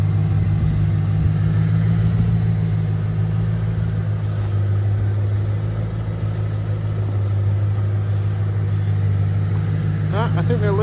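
A Mercedes SL500 idles just outside the garage while warming up, a steady, loud low engine drone that holds even throughout with no revving.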